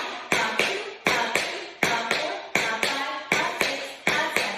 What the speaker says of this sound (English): We're going to start with 8 regular shuffles on this right foot.